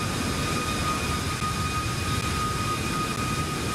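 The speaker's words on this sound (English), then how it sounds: "Boy, them engines sound good, don't they?" Jet engines of a Boeing 737 MAX 8 during takeoff in a flight simulator, a loud steady roar with a deep rumble and a faint high whine, unbroken and with no voices.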